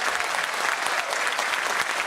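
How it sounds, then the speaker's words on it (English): A crowd claps through a big round of applause at a tribute during a Third House event, a brief, dense and even burst of clapping throughout. "A third house tribute is a great, big, huge round of applause so they can hear it."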